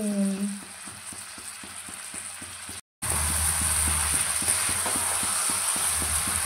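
Mutton braises in a pan with salt added, producing a steady close sizzle under a regular rhythmic scrape of stirring, interrupted by a brief silent gap before the sizzle returns louder.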